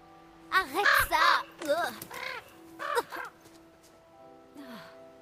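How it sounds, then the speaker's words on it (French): A crow cawing in The Quarry video game, a run of loud, close, harsh caws in quick bursts, followed by a fainter call at the end. "Oh, le corbeau."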